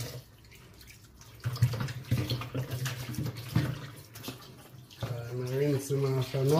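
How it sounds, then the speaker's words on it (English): Tap water runs steadily while raw chicken backs are rinsed in a kitchen sink, a continuous splashing wash with a voice talking over it toward the end. "Rinse him after now, last time. Drain off all the water."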